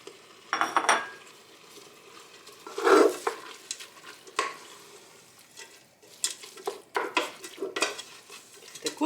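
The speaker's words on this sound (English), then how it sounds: "I am ready to add the sauerkraut." Sauerkraut stirred in a pan, with a utensil scraping and clinking against the metal in irregular bursts over a soft background sizzle, close by and without talk.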